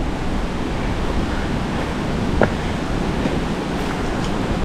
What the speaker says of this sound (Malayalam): ഇന്ന് നല്ല കാറ്റല്ലേ ഇവിടെ?